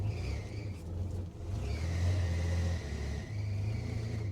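A 1979 GMC C15 square body pickup truck being driven, its engine rumbling close by with uneven low revving and swells of acceleration, briefly dipping before pulling steadily again.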